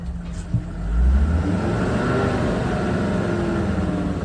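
A Mercedes 250GD pulls away in low crawler gear, its diesel engine rising after a brief clunk into a steady, droning mid-pitched hum as the vehicle trundles slowly along, close by and alone.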